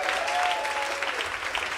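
Brief, steady crowd applause at a live music show, a dense wash of clapping from many hands with a faint tonal hum underneath.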